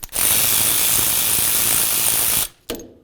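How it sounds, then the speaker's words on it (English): Ratchet turning to loosen a 12mm caliper slider bolt on a Ram 1500 during rear brake work, a fast, continuous clicking run of about two and a half seconds, then a brief second burst, close and alone. "We're just going to go ahead and loosen that one up a little bit"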